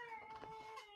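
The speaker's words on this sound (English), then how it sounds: "Oh, it's a cat." A faint, drawn-out cat meow, thin and wavering, heard distantly in the background.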